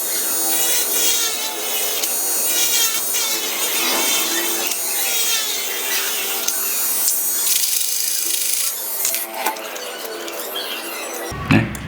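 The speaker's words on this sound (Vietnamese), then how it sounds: "Để tôi khoan từ bên này sang bên này nữa." A small drill bores through the thin aluminum of a beer can, a steady high buzzing whine with scraping texture, close and continuous for several seconds with no talking.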